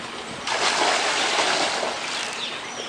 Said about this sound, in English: when you pour the chemicals into your pool, it's good to have your pump running